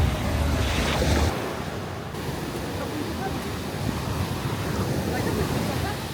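Wind buffeting the microphone at the beach in Kamakura, Japan, a loud rough roar with crashing surf underneath, strongest gust at the start, then steady blustery noise throughout.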